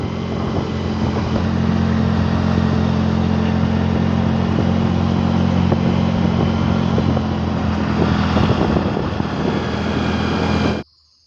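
A stock Yamaha Mio scooter hums steadily while being ridden toward Bromo, its engine and road noise a loud, continuous drone close by for about ten seconds before cutting off abruptly.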